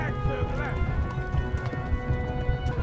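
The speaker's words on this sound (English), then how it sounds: "Come on, horsey! Run!" Horse hooves clip-clop at a gallop in the medieval game Kingdom Come: Deliverance, with a whinny early on, steady and close, while a person talks over the run.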